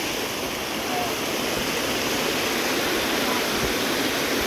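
Water rushes continuously down a cascade at thermal baths, a loud, steady broadband roar close by with no pauses.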